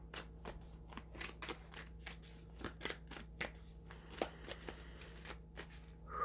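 Oracle cards are shuffled by hand in a quiet room, with rapid, crisp riffling flicks in an uneven rhythm, close and fairly soft, with no speech.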